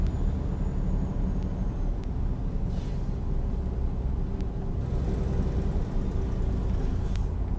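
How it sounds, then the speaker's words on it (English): A truck's engine brake drones in American Truck Simulator, a steady low rumbling growl that holds evenly throughout, with faint passing whooshes and a few light clicks on top. "that Jake brake sounds very different"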